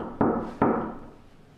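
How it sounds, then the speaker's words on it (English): Two sharp knocks on a hard surface about 0.4 seconds apart, fairly close and loud, each ringing off into a fading room tail. "Would you be able to copy these knocks?"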